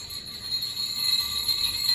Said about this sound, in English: Father Christmas's sledge sounds like this